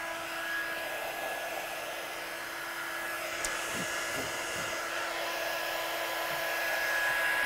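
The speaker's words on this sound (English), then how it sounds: "Get your gun really hot before we heat emboss." Heat embossing gun runs steadily while warming up, a constant close blowing hum with a faint whine and occasional light handling knocks, no talk.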